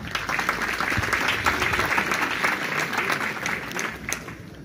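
Steady, sustained applause from a crowd acclaiming Monseigneur Paul Dacoury Tabley at a church tribute for his 90th birthday and 45 years as bishop, dense clapping throughout.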